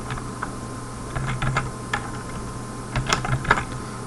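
A computer keyboard clatters with irregular bursts of key taps, moderately close, while someone enters printf code in C, with no talk.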